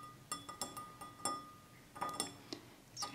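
A cat's small collar clinks against its metal food bowl several times, light and irregular taps at a moderate distance, fairly faint in a quiet room.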